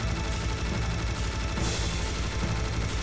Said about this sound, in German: Ich hau hier gerade mit der Minigun drauf, das macht so irgendwie gar keinen Schaden.